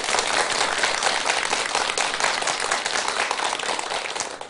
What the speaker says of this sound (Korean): 우리 대덕 스님들께 큰 박수 한번 주시기 바랍니다.